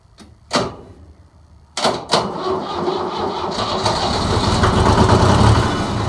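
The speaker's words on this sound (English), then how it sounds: "So, this is a Yanmar. Nice little front end loader tractor." A Yanmar front-end loader tractor cold-starts outdoors at about 18 degrees: a few cranking bursts and thumps, then the engine catches and settles into a steady, rumbling idle close by.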